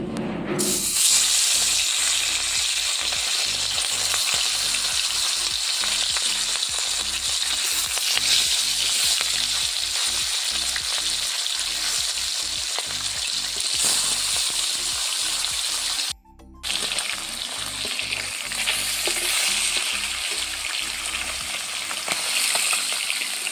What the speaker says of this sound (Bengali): এক এক করে আমি মাছগুলো তেলের মধ্যে দিয়ে দেবো।